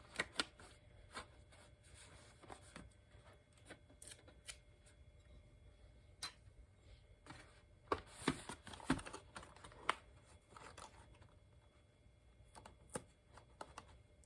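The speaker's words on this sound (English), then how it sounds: "So I got this tape from the dollar store. I just take a couple of pieces." Pieces of dollar-store tape are pulled and torn off to reseal a noodle box, giving faint, close crinkly rustles and a few short ripping bursts scattered across a quiet background.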